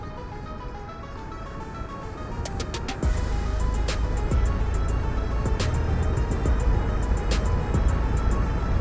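A Kukirin G2 electric scooter pulls away after a quiet start, its motor hum rising suddenly and staying loud, with brief clicks and rattles scattered across the ride outdoors.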